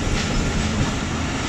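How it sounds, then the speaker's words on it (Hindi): The Mehr Express rolls into Gola railway station in Pakistan, a steady, loud rumble of train wheels and carriages passing close by, with no voices over it. "महल एक्सप्रेस गोला रेलवे स्टेशन पर पहुंच रही है"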